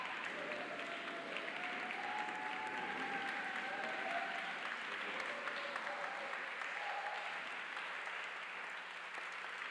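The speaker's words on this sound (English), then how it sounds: "Another round of applause, please" Sustained audience applause fills the room after a spoken-word keynote at a Black education conference, a steady dense wash of many hands clapping at moderate distance with no voices standing out.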